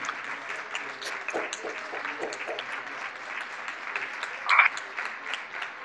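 Applause from people clapping at home, a continuous patter of many hands with a few sharper nearby claps, moderately faint and steady throughout.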